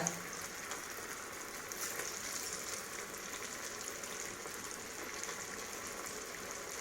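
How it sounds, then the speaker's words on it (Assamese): Chickpea koftas frying in hot oil over low heat, a faint, even, continuous sizzle with no other sounds. "লাহে লাহে কম জুইত ভাজিব"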